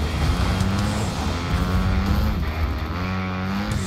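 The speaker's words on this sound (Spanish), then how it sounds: "¡Oh, hay una moto!" A motorbike engine in Fortnite runs steadily with rising and falling revs, loud and close, with no talk over it.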